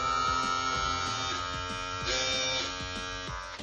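An old classic Wahl electric shaver switched on, buzzing steadily and loudly at close range with a harmonic motor whine and faint periodic rattles, running alone without talk for the full stretch.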